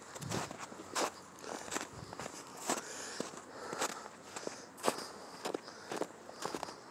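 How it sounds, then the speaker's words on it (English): Footsteps crunching through snow at a Colorado railroad museum, a steady walking rhythm of crisp crunches, fairly close but soft, with no talking. "I love the sound of snow crunching."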